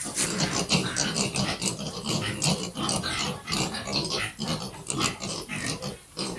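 A crowd of native pigs grunts and squeals steadily close by, with a voice talking faintly under the constant din.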